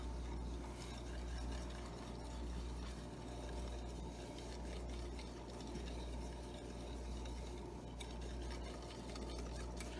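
A whisk stirs a steak marinade in a bowl, producing a steady continuous scraping and swishing with faint metallic rattles and no pauses. The sound is close and quiet, and no one speaks.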